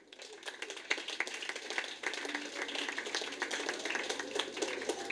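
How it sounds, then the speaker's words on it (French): Audience applause for a students' parliament at a ceremony, a dense steady patter of many hands clapping at moderate distance for several seconds, with faint talk mixed in. "Ok, nous pouvons applaudir pour le Parlement des élèves."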